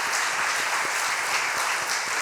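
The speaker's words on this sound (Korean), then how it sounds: "우리 연합찬양대에 박수 소리를 한번 격려 한번 해주시면 감사하겠습니다." A church congregation applauds the combined choir after a special hymn at a worship service. The clapping is dense, even and sustained, with no voices over it.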